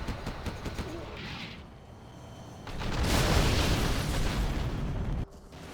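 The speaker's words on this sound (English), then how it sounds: "artillery coming in for Fargo" Artillery strikes and explosions in a real-time strategy game: a crackle of scattered shots leads into a heavy, rumbling barrage of blasts that swells, holds for a couple of seconds, then cuts off abruptly.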